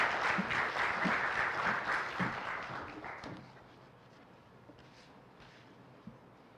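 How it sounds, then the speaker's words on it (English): A graduation audience gives a warm round of applause, dense and fairly loud for about three seconds, then fading to a few scattered claps. "Let's give him a warm round of applause."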